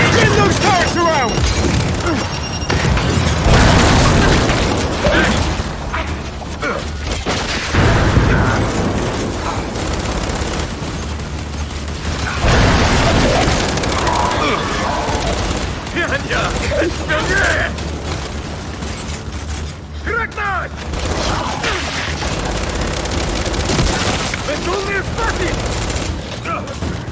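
Gears 5 battle with mounted turrets firing and heavy explosions, sustained mechanical rattling bursts and booming blasts across nearly half a minute, dense and loud, with voices shouting over the combat at times.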